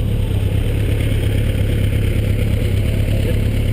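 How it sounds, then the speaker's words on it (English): Motorcycle engine running steadily and loud, a constant low rumble with clattering texture during a group ride trip in Kuala Lumpur, with no voices heard. "Ini motor kita."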